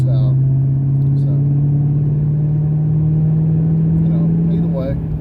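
A Paxton-supercharged 3V Mustang making about 550 rear-wheel horsepower drones steadily from inside the cabin, a smooth continuous engine hum with no distinct whine, as someone talks over it.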